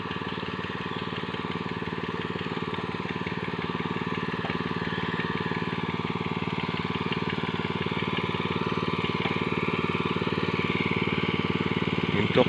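A steady mechanical engine drones on without pause, a constant chugging hum at moderate loudness throughout, with no talking: an engine-driven water pump drawing from a large river to irrigate rice.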